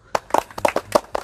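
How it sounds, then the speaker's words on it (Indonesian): An audience at a coffee business talk show claps in a short, scattered burst, with a handful of distinct sharp hand claps close by and no voices. "Tepuk tangan loh."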